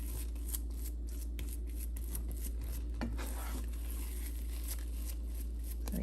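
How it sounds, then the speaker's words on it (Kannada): Mango kesari dessert stirred in a pan, soft scraping and shuffling strokes of a spoon at low volume over a steady background hum. "ಇದೊಂದು ಸ್ವಲ್ಪ ತಿರುಗಿಸ್ಕೊಳ್ಳೋಣ."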